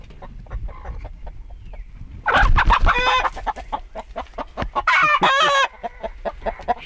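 A broody hen in a coop clucks in steady, close, repeated low notes, broken by louder squawking and crowing-like calls from the flock.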